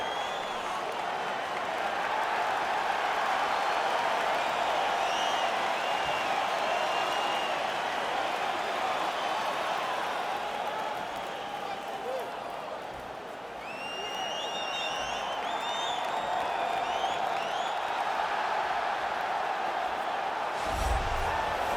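A sold-out arena crowd at UFC 283 roars and cheers in a steady, loud wash of noise that dips briefly and then swells again.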